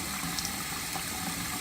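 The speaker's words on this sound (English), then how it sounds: "my water is running the whole time" Tap water runs steadily into a sink while a makeup brush is washed, a continuous even hiss and splash with no talk.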